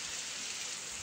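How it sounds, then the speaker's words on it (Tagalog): Heavy rain falls steadily through the night in the Philippines, a dense, even hiss of downpour with no wind, continuous and moderately loud. "Ulan lang po talaga, magdamag po guys."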